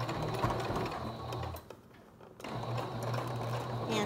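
A sewing machine stitches across the center seam of a fabric face mask in close, loud bursts of rapid mechanical chatter. Stitching pauses briefly in the middle before resuming.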